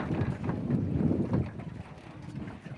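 A trawler boat crosses the Brahmaputra river, its low engine rumble rolling under heavy wind buffeting on the microphone, strongest early and easing toward the end.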